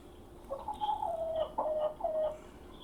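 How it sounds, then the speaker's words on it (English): Hens in a backyard coop give a run of short, rising clucks and calls, moderately close and clear over a faint steady background hum. "there's my chickens, and I can even talk to them"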